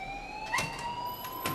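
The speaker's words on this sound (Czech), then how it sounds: "please turn off that alarm, since that's your job" A continuous electronic alarm tone in the video game Life is Strange, steady and moderately loud, with a few soft thuds over it.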